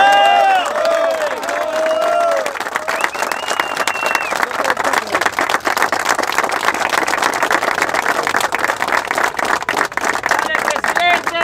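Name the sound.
crowd applause and cheering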